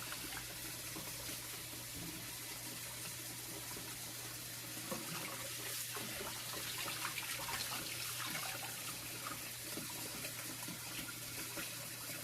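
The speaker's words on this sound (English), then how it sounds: "So now I'm going to turn off this water." Kitchen faucet running steadily into a sink while collard greens are washed, a constant close hiss of water with faint clinks and movement in the background.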